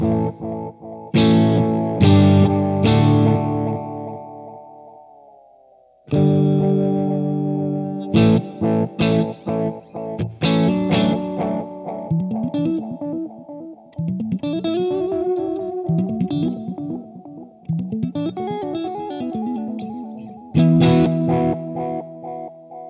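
Distorted electric guitar chords ring out through a Gokko Magrane Echo Machine pedal with echoing repeats and a reverberant wash, notes trailing and overlapping before fresh strums.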